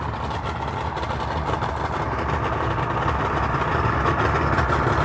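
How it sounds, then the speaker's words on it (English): Two-stroke Mercury outboard boat engines idle at a boat ramp, a steady close, loud low rumble with a rough burbling texture that holds level and unbroken throughout. "Two-stroke Mercury's."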